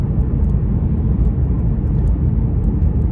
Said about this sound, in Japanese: 温まって通常の回転数に落ちて、でこうやって走らしてると、 まあノーマルとそんなに変わらないんじゃないかなっていうぐらいの音ですね